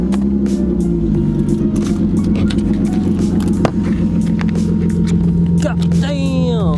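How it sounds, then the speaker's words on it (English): Straight-piped Acura RSX Type S idling loudly and close up after a cold start, a deep steady engine drone with a broken thermostat noted, and a voice talking briefly near the end. "this is gonna be a cold start, and it's gonna be so loud because this car is basically straight piped."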